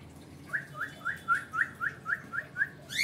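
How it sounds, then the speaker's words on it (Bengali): Pet cockatiels call indoors in a room, a quick run of about ten rising whistled chirps at an even pace, fairly close, ending in a sharper louder call. "এটা হচ্ছে আমার সর্বপ্রথম ককাটেল পাখি"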